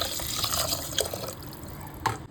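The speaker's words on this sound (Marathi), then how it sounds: "पाणी घालून घेऊया." Water splashes and pours steadily into a pot of rice for a couple of seconds, a close, continuous liquid rush with a few brief clinks.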